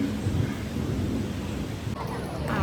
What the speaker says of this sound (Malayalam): ഞാൻ ഇപ്പോൾ മഴയൊക്കെ കൊള്ളാൻ വേണ്ടിയിട്ട് ഇങ്ങനെ പുറത്തിറങ്ങിയിട്ട് വന്നിട്ട് ഇങ്ങനെ മഴയെ ഇങ്ങനെ വായി നോക്കിയിരിക്കുകയാണ്